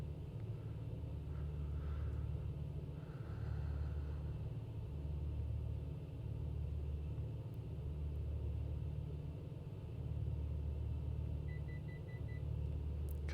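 A2A Bonanza piston engine in a flight simulator idling low with the throttle pulled back, a steady droning rumble with faint periodic pulsing and a brief electronic beep near the end.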